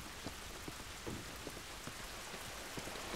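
Rain in The Last of Us falls as a quiet, even wash of drops on surfaces, with occasional distinct splats popping out of the steady hiss, no speech present.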